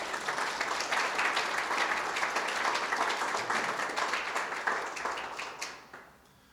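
A church audience at Christ Church Cranbrook claps steadily for several seconds to welcome a speaker to the podium, a dense, even roomful of applause that fades out at the end.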